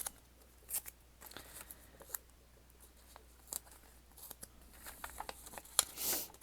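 Adhesive tape is pulled and torn for journaling: a string of short, sharp crackles and rips, close and fairly quiet, with a longer tearing pull near the end.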